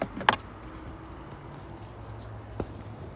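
Plastic fuse box cover on a 2016 Nissan Versa being pried open with a tool, a sharp close snap right at the start and a smaller click later, with quiet cabin background between.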